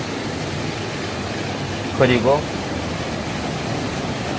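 A deep waterfall in Baemsagol valley on Jirisan gives a steady, even broadband rush throughout, with a voice speaking briefly over it.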